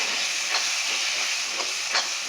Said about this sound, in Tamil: இதை போட்டு நல்லா வதக்கிக்கலாம்